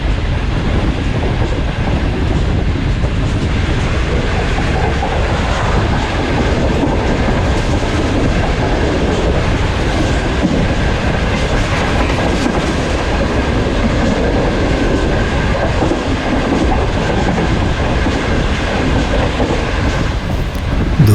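Shalimar Express passenger train running at speed on the rails, a loud, steady rumble with rattling wheels and a clickety-clack that continues without a break.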